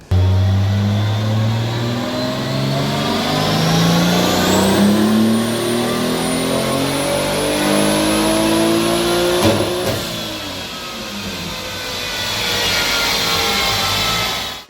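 A loud turbocharged 1JZ-GTE engine in a Toyota Chaser JZX100 revs steadily upward in pitch under load on a dyno, pausing briefly before climbing again, a sustained roaring power run heard close up.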